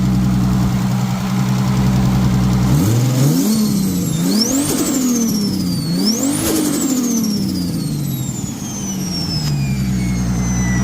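A Nissan Silvia S13 with an RB25DET engine and T51R turbo idles loudly, then revs sharply three times in quick rising-and-falling sweeps before settling back to a steady close idle.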